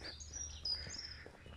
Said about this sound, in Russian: Птички только чирикают.